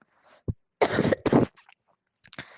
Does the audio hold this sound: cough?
yes